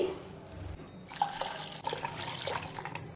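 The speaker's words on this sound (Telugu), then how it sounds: "జొన్నలు కాబట్టి 3 గ్లాసులు వాటర్ వేసుకోవాలి" Water poured into a pot of jowar (sorghum grain) for kichidi, a close, steady splashing and trickling that starts after a brief quiet moment and carries on with no voices.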